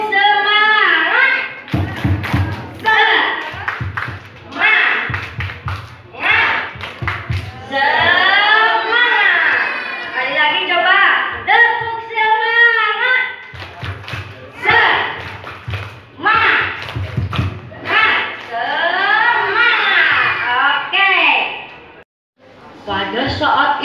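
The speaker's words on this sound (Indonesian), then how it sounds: "Coba, tepuk semangat." A group of children performs the rhythmic 'tepuk semangat' clapping chant, with loud chanted voices and steady bursts of hand claps running throughout.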